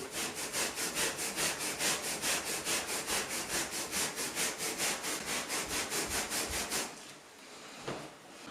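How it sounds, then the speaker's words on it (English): Carpet being scrubbed by hand during residential cleaning: a fast, steady back-and-forth brushing rhythm, close and fairly quiet, stopping after about seven seconds. "Just gonna scrub it."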